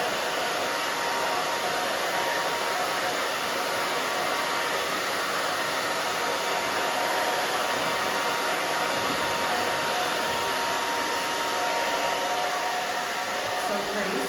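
Handheld hair dryer blowing steadily while a short bob is dried back, a continuous close broadband whoosh that runs unbroken throughout.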